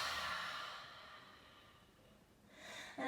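A single long exhale out through the mouth during a vinyasa yoga flow, breathy and close, fading over about two seconds before a faint new breath begins, with no speech.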